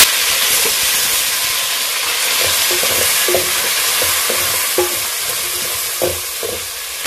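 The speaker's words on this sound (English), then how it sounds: "I'm just going to fry my onions to golden brown." Onions and tomato fry in a pan with a loud, steady sizzle and hiss, punctuated by occasional scraping stirs, with no voices.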